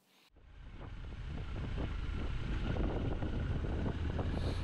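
Wind roaring past the microphone while riding a Triumph Scrambler 1200 X motorcycle, starting abruptly and building into a steady, loud, low rumble with fluttering buffeting that continues throughout and no voices.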